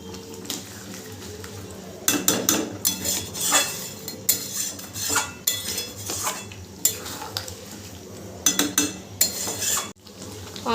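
Homestyle chicken curry being stirred in a metal pot after hot water is added, with bursts of clanking, scraping spoon strokes against the pot over a faint simmer, separated by brief quieter pauses.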